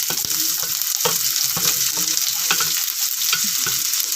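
Chopped onions frying in hot oil in a pan during home cooking of a mutton fry, a steady close sizzle with intermittent stirring clatters and scrapes throughout.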